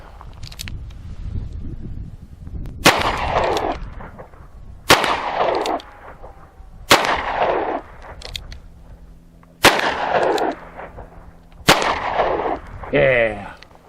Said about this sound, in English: I'm going to fire 5 rounds of 45